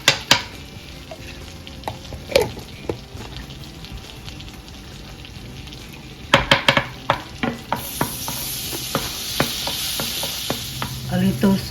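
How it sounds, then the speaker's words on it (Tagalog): Garlic frying in butter in a pan with salt and pepper: a steady sizzle with sharp scraping and clacking from a utensil stirring, growing into a louder hiss near the end. "Put some garlic. This is the kind of garlic."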